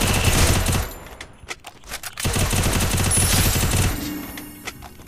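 Rapid bursts of automatic gunfire from a solo-versus-duo battle royale shooter game, loud and close, with dense volleys, a short lull of scattered single shots, then another sustained barrage that trails off.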